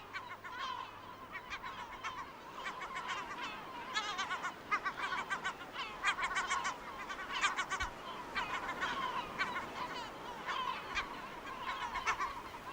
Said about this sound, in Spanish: Gaviotas, como la de Oduin